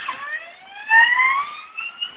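A wailing siren with rising harmonic tones sweeps steadily upward, fairly loud and continuous, with no voices present.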